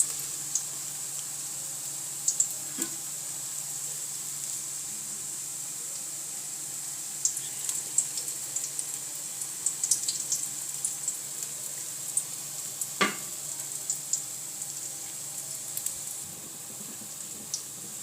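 Bottle gourd (lauki) koftas fry in hot oil with a steady, soft hiss that holds evenly throughout, broken by a few faint crackles and one sharper pop near the end.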